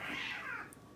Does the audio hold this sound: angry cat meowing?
yes